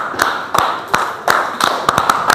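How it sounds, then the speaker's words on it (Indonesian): A few scattered hand claps ring out in a classroom as applause for the third student group, sharp separate slaps spread unevenly over a couple of seconds rather than a full dense ovation. "tepuk tangan buat kelompok 3"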